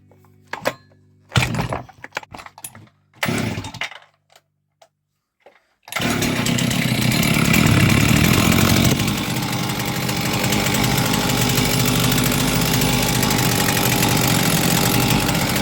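A Motor Sich MS270 petrol chainsaw, just repaired, gives a few short sputtering pulls and brief bursts, goes quiet, then catches and runs loud and steady with a rough idling and revving engine to the end.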